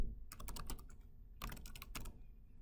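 Two quick bursts of keystrokes on a computer keyboard while entering code, crisp close clicks in rapid clusters with a short pause between them.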